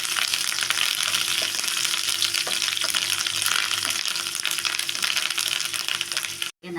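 Curry leaves fry in hot oil for a brinjal palya, making a loud, constant crackling sizzle with a few faint clicks, then a brief cut near the end before the sizzle resumes.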